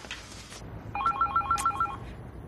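A telephone rings indoors with a short burst of rapid electronic trills, fairly close and clear over quiet room tone, with no talking.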